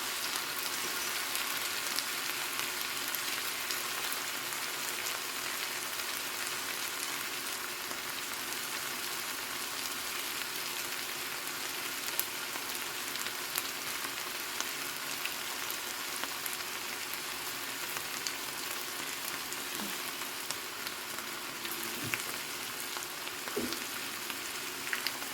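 Garlic is added to a pan where onions and vegetables are already frying, and a steady, faint, even sizzle carries on without a break, with no voices.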